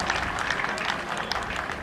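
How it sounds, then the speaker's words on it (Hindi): Crowd applause at a police academy passing-out parade for a batch of deputy superintendents, fairly quiet and somewhat distant, steady clapping with a few sharper claps standing out. "तालियों में कमी ना आए"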